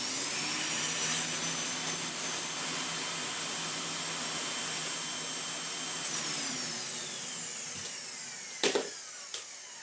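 An old, mouldy Dyson DC04 Zorbster vacuum cleaner runs close by with a high whining motor roar, then winds down with a falling pitch, followed by a couple of clicks.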